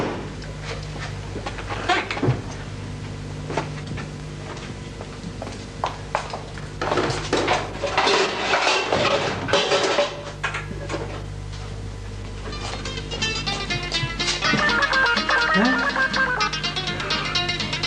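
Dishes, pots and pans clatter and bang in a busy household, with repeated metallic clanks and scraping spread across the stretch over a steady background hum, loudest near the middle.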